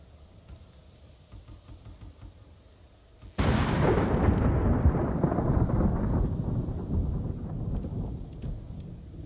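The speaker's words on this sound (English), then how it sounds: "Wonder if that lightning strike was from my current weather or the one that I was trying to prep." A lightning strike in Ghost of Tsushima lands as a sudden loud thunder crack, then a heavy rumble that rolls on and slowly fades over steady rain.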